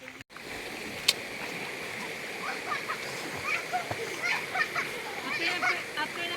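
Splashing in a river during a bath, with water sloshing and scattered splashes growing busier over time, plus a sharp knock near the start and faint voices in the background.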